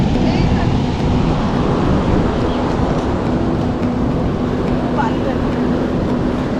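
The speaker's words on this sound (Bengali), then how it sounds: "খুব সুন্দর একটা ঠান্ডা হাওয়া বইছে" Sea waves on Puri beach with a cold wind blowing, a continuous loud wash of surf and wind buffeting the microphone, with steady roar throughout.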